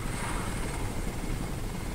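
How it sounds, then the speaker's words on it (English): A helicopter in the Crysis video game gives off a loud, dense rotor roar with a steady low throbbing, close by and continuous throughout. "I'll wait for the helicopter to move out of the way"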